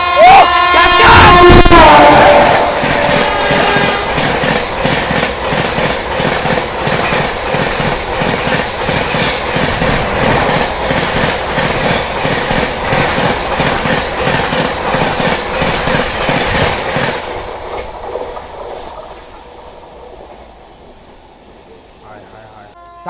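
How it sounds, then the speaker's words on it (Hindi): An Indian Rajdhani Express passes close by at speed, a loud continuous roar of wheels with rhythmic clickety-clack over rail joints that fades as it recedes, a horn sounding at the start. "भाई राजधानी आ रही है"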